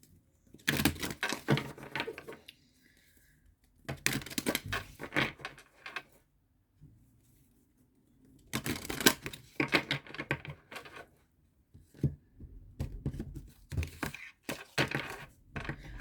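Tarot cards being shuffled by hand, coming in several separate bursts of crisp riffling and tapping with short quiet gaps between them, close and fairly soft.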